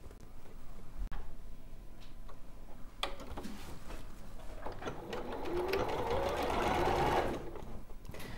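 A sewing machine stitching fur fabric with quarter-inch seams, running in a rapid ticking rhythm close by with short pauses, then a longer steady burst at the end.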